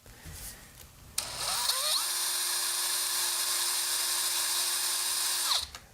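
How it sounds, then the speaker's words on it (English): A power drill bores into a ham radio chassis, whining loudly and steadily for about four seconds after a brief spin-up, then winding down, with no talk over it. "Now I'm going to change the speed of my drill"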